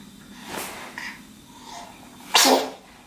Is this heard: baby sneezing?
yes